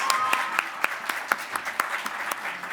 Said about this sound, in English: Another big round of applause for our Japan Bowl champions.